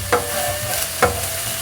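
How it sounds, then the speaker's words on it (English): Ginger and garlic frying in a pan for orange chicken, stirred with two distinct scraping strokes over a steady close sizzle. "Give it a good mix, but you don't want it to burn."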